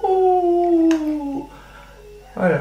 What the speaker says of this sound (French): les deux chiens à côté qui font le chant du loup